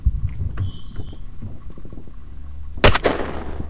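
Gunfire in a multiplayer video game: one sharp, loud, close shot near the end, preceded by softer game noises and muffled clatter.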